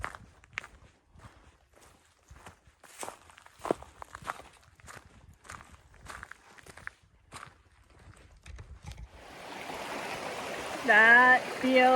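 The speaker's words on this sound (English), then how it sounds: "We're soaking our feet. in this nice stream." A stream on the Ouachita trail runs as steady broadband water noise in the final seconds, after a stretch of footsteps on the trail; a voice speaks briefly near the end.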